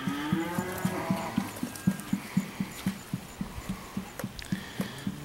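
Feeding heifers at a cattle sale, with a low bellow early on, followed by a steady series of soft rhythmic thuds, quiet and somewhat distant.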